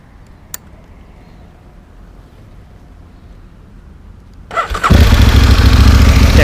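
An Aprilia Tuono motorcycle on its stock exhaust cranks and fires up near the end, jumping from quiet background into a loud, close idle roar that holds steady.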